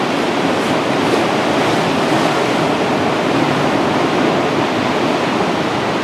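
Waves from the Atlantic Ocean crash along the north coast of Puerto Rico's main island, making a constant heavy wash of surf that stays loud and near throughout.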